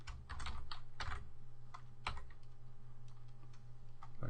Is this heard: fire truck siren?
no